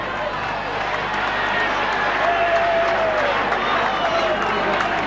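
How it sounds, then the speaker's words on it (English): Balmain supporters at a 1987 rugby league match against Canterbury shouting and yelling, a dense, loud wall of crowd noise with rising cries, continuous throughout. "if you can hear me over the shouting and yelling of the Balmain crowd"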